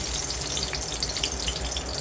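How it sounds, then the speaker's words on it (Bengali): Oil sizzles with a steady, dense hiss as a sliced home-grown eggplant, rubbed with turmeric and chili, fries in a pan, heard up close and unbroken, with no voices. "একটা বেগুন ভেজে নিচ্ছি"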